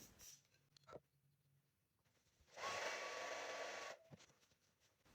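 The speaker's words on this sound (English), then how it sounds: "And then I just dry it a little bit with the dryer again." A hair dryer blows in a steady whooshing roar for about a second and a half, starting and stopping abruptly amid quiet handling noises.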